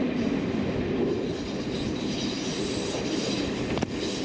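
A Swanage Railway Class 117 train runs steadily, heard from inside a coach, with a constant rumble and wheel noise. A single sharp click sounds near the end, and no one speaks.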